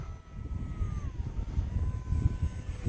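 A Hobbyzone Aeroscout S 1.1 m RC model airplane in flight, its small electric motor whining steadily with a slight pitch drift, fairly faint over heavy low wind rumble outdoors.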